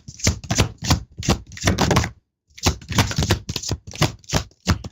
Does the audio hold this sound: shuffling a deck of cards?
yes